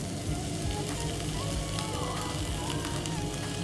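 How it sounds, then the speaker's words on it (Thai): Squeezed tomatoes sizzling in a single frying pan with shrimp for a low-sodium tomato spaghetti, giving a dense, steady close-up crackle and hiss that runs unbroken throughout. "กระบีบมะเขือเทศลงไปเลยค่ะ"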